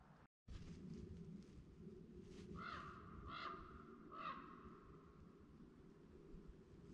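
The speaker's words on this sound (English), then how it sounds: "Mr. Raven." A raven calls three times in Pennsylvania woods during rifle deer season, hoarse caws spaced about a second apart over a steady background hiss, moderately distant and with no one speaking.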